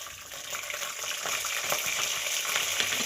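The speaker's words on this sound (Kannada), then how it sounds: "ಇದನ್ನು ಚೆನ್ನಾಗಿ ಫ್ರೈ ಮಾಡ್ಕೊಳ್ಳಿ" Peanuts and curry leaves fry in hot oil for vegetable upma, a steady close bubbling sizzle with light crackles and spatter running the whole time, no voices.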